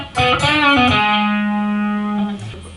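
Electric guitar playing a short solo phrase, a few picked notes sliding down into a long sustained note, clear and close with light effects.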